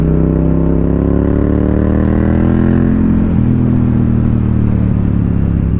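A Yamaha FZ-07 stunt motorcycle engine runs loud and close, its pitch gliding down as the revs fall, then settling into a steady throbbing idle.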